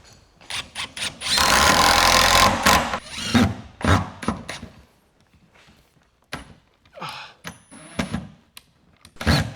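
A drill drives screws into Trusscore PVC ceiling panels in a wood shop, with one long whirring run followed by several short bursts and clicks, close and loud, separated by quiet gaps.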